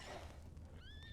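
A horse in the Outlaws of the Old West video game whinnies once, a high quavering call rising out of faint, rumbly ranch ambience near the end, with no voices.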